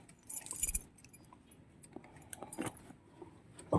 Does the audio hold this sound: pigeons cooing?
no